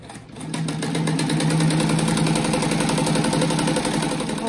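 Sewing machine stitching a fish-shaped rug, a steady rapid mechanical whir with a fast needle rhythm running continuously and close by after a brief start.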